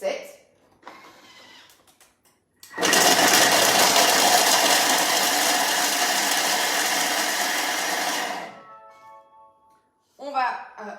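A kitchen machine blends cheese at speed 7 for five seconds, giving a loud, steady whirring roar that starts abruptly and cuts off about five seconds later, with talking just before and after.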